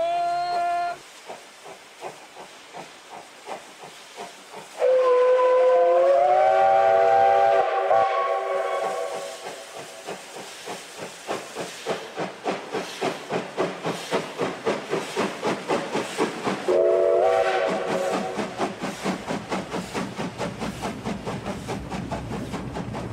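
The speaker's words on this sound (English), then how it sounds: "aboard a train pulled by a steam locomotive" A steam locomotive chugs with steady rhythmic chuffs and hissing steam, its whistle blowing two long blasts.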